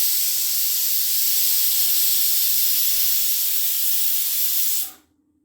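Steady loud hiss of steam escaping a pressure cooker whistle while steel cut oats cook with water over high heat, continuous for about five seconds before cutting off abruptly.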